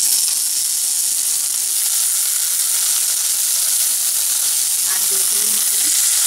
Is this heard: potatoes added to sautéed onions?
yes